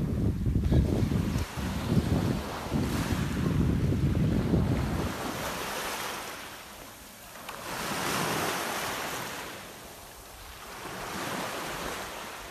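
Sea waves at a beach in Jaywick wash in and out close by, with strong wind buffeting the microphone throughout, the rumble swelling and easing in slow surges.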